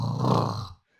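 A voice imitates snoring to pronounce the Arabic letter kha, giving one short, close, rasping throaty rush of breath that stops abruptly into silence.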